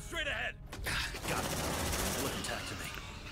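Sentry turrets firing continuously in the sci-fi game Aliens: Dark Descent, a rapid machine-gun rattle sustained throughout amid combat noise and brief voices.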